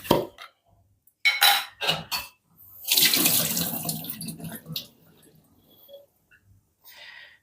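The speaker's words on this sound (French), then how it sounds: "tu prends tes olives, tu viens les égoutter et les rincer" Drained olives rinsed under a running kitchen tap, water gushing into a sink in a steady splashing burst after a few short clatters of handling, close and fairly loud, with a brief trickle at the end.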